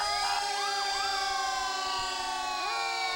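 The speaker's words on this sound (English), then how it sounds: "All right, and there goes the siren." A fire truck siren wails nearby during a parade, rising and falling in loud sweeping cycles over a steady roar, with no talking.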